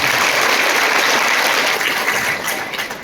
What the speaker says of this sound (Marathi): आपण दादासाहेबांच्या प्रयत्नाला जोरदार टाळ्या वाजवूया